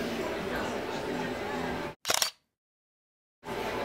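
A single short camera shutter click as a selfie is taken, sharp and close, set between stretches of room noise with a brief silent gap after it.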